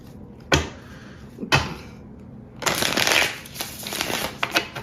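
Tarot cards shuffled by hand in close bursts: two short riffles, then a longer run of dense, crisp flicking and riffling that continues to the end.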